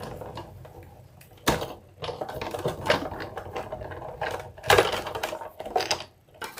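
A card-embossing machine presses a handmade Father's Day card, producing several bursts of mechanical clattering and thumping, with two sharper impacts and quieter rattling between them, close by and without speech.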